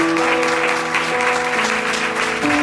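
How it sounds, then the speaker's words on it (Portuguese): Church congregation applauding during a Portuguese-language worship service, a dense, steady wash of clapping close up and loud throughout, with sustained musical tones from keyboard or organ running underneath. "Aplauda ao Senhor mais uma vez"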